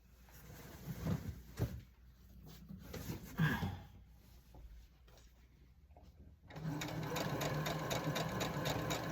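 A sewing machine stitches a quilt binding seam, a steady rapid mechanical chatter that starts after several seconds of quieter handling clatter and soft movement sounds.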